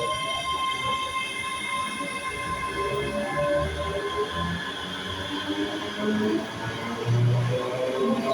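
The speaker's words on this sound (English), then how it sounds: "about to depart now is 385, 112 and 105 on a ScotRail Express service from Glasgow Queen Street to Edinburgh Waverley" ScotRail express electric train pulling out of Glasgow Queen Street bound for Edinburgh Waverley, a steady close rumble and whine of the rolling stock with faint tonal hum, running continuously throughout with a brief talking voice.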